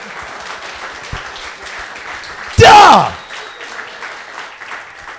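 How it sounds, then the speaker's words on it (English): An audience breaks into a short, loud burst of applause and cheering that swells suddenly and fades within about a second, while someone talks before and after it. "Give that man applause."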